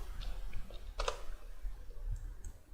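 Typing on a computer keyboard while setting up a multiplayer game in Unity: a short run of crisp, close key clicks, irregular and fairly light, with no speech.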